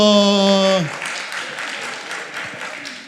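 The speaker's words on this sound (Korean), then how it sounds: "자, 박수 한번 주세요." Audience applause at a church group seminar session, a brief burst of scattered clapping following a voice, moderately loud and fading over a few seconds.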